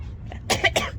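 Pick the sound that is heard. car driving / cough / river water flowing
cough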